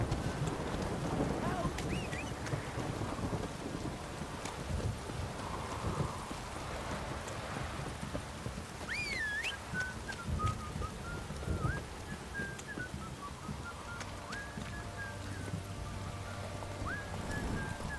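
Steady heavy downpour in The Witcher 3: Wild Hunt, a continuous rain hiss with thunder-like rumble, beside a horse's clip-clop and scattered game sounds, with someone speaking over it at times.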